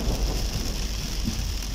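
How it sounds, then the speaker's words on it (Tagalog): Heavy rain pours down in a steady, dense wash of hiss and patter, loud and unbroken throughout, with no voices. "Ang lakas ng ulan."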